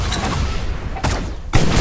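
Explosive bursts from an RPG rocket launcher in the online shooter Shell Shockers, two sharp broadband blasts after a dense rumble, loud and close, with no talking.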